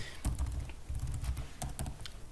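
Quick, light keystrokes on a computer keyboard as Linux commands are typed, an irregular run of close clicks and taps with short pauses and no talking.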